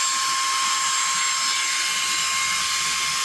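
A handheld Baseus rechargeable car vacuum cleaner runs on its highest 15000Pa suction setting, a loud, steady high-pitched whine that holds without pause from start to finish.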